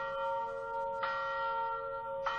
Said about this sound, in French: c'est la cloche qui sonne à la volée